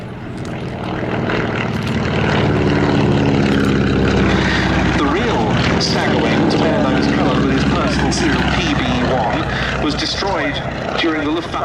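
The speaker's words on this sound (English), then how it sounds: "It's now painted as the personal aircraft of His Royal Highness Prince Bernhard of the Netherlands, who operated a Staggerwing" A Staggerwing propeller aircraft flies at the Duxford summer air show, its droning engine rising and holding at a moderate distance beneath continuous commentary.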